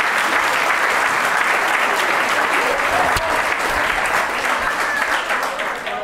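Steady, dense applause from an audience in a hall at a Relais pour la vie charity walk event in the MRC de l'Érable, a continuous loud wash of clapping lasting throughout with no gaps.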